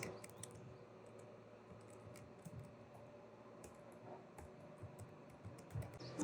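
Quiet clicks of a computer keyboard as a prompt is typed into the ChatGPT website, soft scattered keystrokes over faint room noise, no voices.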